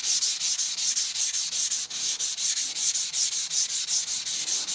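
A knife blade is stroked back and forth on a Cheefarcuut 400 and 1k vitrified diamond stone, a steady, rhythmic, close scraping hiss repeating about four times per second without pause.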